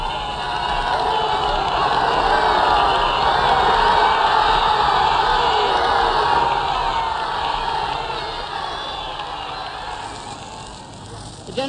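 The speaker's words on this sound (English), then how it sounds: "Just listen to these crowds." A huge crowd of Parisians cheers and shouts with joy during the Paris liberation procession, a dense, sustained roar filling the scene that stays loud for most of its length and eases slightly near the end.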